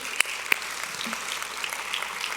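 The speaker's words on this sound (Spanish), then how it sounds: "Denle otro fuerte aplauso al Señor." A church congregation gives faint, scattered applause during a worship service, with a couple of sharper individual claps standing out early.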